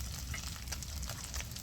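Gourd and potato pieces hit a hot frying pan for a fish-head pumpkin ghonto, giving a soft, steady sizzle with faint crackles throughout, fairly quiet and close, with no voices.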